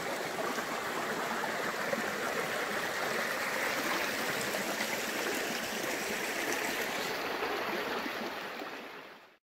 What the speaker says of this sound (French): face à une rivière qui s'appelle l'Andrable